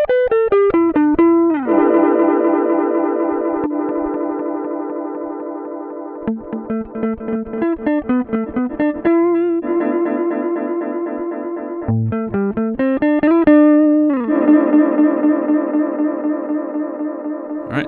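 Electronic notes played through the Echo Pad app's echo effect with compressed echoes, bright sustained tones in quick runs and held chords, close and steady, with no talking.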